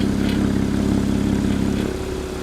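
A Porsche 981 Cayman GT4 with an iPE exhaust idles with a steady, loud, deep burble, then the valves switch from open to closed and the exhaust note drops noticeably quieter near the end.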